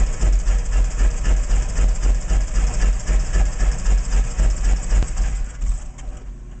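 The piston engine of light aircraft N642KM runs steadily at idle after being cranked on the starter, a loud, close, low rumbling drone with a rapid pulsing beat that holds throughout.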